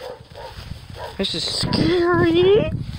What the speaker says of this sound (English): I bet you can hear my dog barking